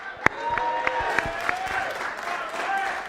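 A darts crowd at a finals night applauds at moderate distance, scattered claps and a few sharp peaks over a murmuring hall, with some voices mixed in.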